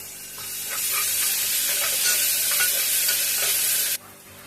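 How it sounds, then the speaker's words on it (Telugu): Ginger garlic paste frying with onions in a pan for a beans curry, a steady loud sizzle with stirring scrapes throughout, dropping suddenly to a quieter hiss near the end. "ఉల్లిపాయలు కాస్త ఫ్రై అయ్యాక కొద్దిగా అల్లం వెల్లుల్లి పేస్ట్ వేసుకొని పచ్చి వాసన పోయే వరకు ఫ్రై"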